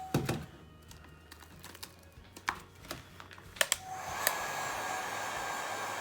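A heat gun softening resin drips on a finished piece, starting with scattered close taps and knocks, then a steady airy blowing roar that swells and holds to the end.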